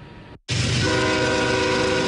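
Train passing through San Marco: a brief dropout, then a loud, sustained rumble with a blaring horn tone holding steady close by.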